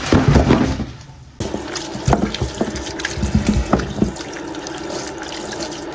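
Blanched lamb leg bones rinsed under running tap water in a kitchen sink: close, splashing flow broken by irregular knocks and clatters as the bones are handled, with a brief lull before the water resumes.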